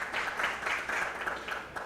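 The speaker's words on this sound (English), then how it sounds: "getting a round of applause from the group here" Applause from a small group of spectators at a billiards tournament match, a steady patter of clapping lasting a couple of seconds at moderate volume.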